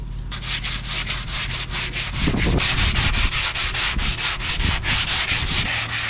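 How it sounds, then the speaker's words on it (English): Rhythmic hand sanding of an aluminum boat hull with 80 grit sandpaper and a sanding sponge, steady scratchy back-and-forth strokes, close and continuous with no talking. "80 grit sandpaper and this 80 grit sponge."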